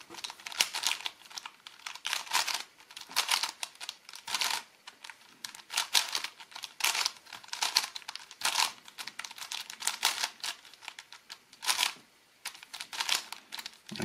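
Quick clicking and clacking of the faces of an Elite Skewb twisty puzzle being turned by hand, a steady run of close, crisp snaps with brief pauses between bursts.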